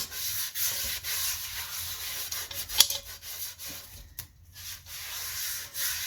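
Baking soda scrubbed against the rusty inside of a cast iron pan makes a steady, close, gritty rubbing that runs without pause, with no voices.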